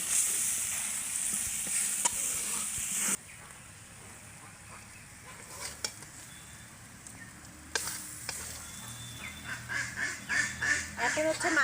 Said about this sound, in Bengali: এখন হচ্ছে তেলাপিয়া মাছটা কষিয়ে নেব